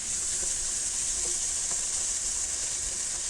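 Green beans, carrots and kale fry on high heat in butter in a pan, giving a steady, dense sizzle that holds evenly throughout with no talking.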